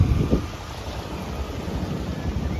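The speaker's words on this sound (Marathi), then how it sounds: "हे बघा कसं पाणी वाहतंय" Fast floodwater pours through an area swamped by continuous heavy rain. A steady, close rushing roar carries on throughout with wind buffeting the microphone, and no voices are heard.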